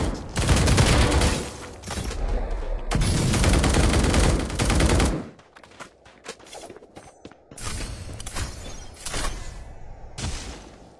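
Dense bursts of automatic gunfire in a competitive shooter video game scrim, loud and continuous for several seconds, then sparser scattered shots with footsteps and clattering, ending in another short volley.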